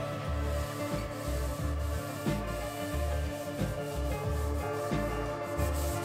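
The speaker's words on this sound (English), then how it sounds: "Then some light sanding of all the parts," Light hand sanding of wooden walk-in closet parts between coats of Danish oil, a steady rubbing scrape in repeated strokes, close and continuous, with a low hum running underneath.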